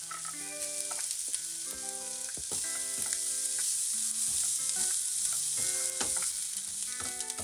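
Onion and garlic frying in a teaspoon of olive oil, a steady bright sizzle punctuated by repeated clinks and scrapes of stirring, close and alone without voices.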